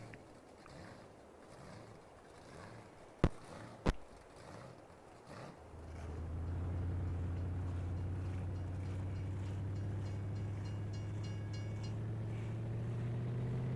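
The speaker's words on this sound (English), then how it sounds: "One choo-choo train didn't get us, the next one did." A train rolls past in Farming Simulator 22. After a quiet stretch broken by two sharp knocks, a deep rumble swells in and holds steady and loud.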